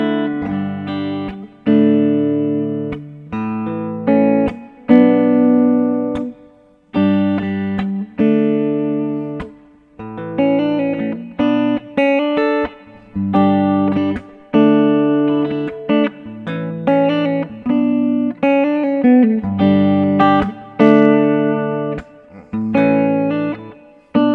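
Guitar notes and chords ring out with heavy reverb, each strum sustaining and fading before the next, loud and continuous without voices.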